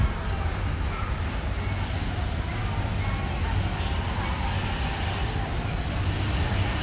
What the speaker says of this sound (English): And there is the blue monorail.